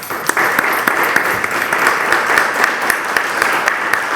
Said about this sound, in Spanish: Yo creo que se merece un buen aplauso